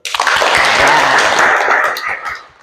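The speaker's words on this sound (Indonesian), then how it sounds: "Mari kita berikan aplaus dulu." An audience at a university teaching session applauds in a loud, dense burst of clapping that swells quickly and then tapers off within a few seconds.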